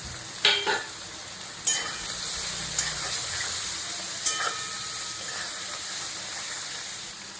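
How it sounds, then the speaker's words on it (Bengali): Ground cumin, turmeric, dried chilli and ginger-garlic paste hit hot oil in a pan, giving a steady sizzle and hiss with a few sharp spatters and stirring scrapes, close and alone without talk. "জিরে গুঁড়ো, হলুদ গুঁড়ো, শুকনো লঙ্কা, আদা রসুন বাটা চাপ করে ঢেলে দিলাম।"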